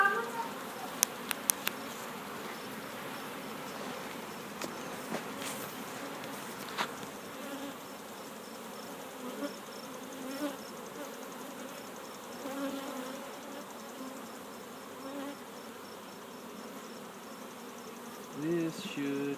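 Honey bees swarm and buzz steadily around an open beehive during an inspection, a dense, continuous drone close by with a few brief louder passes.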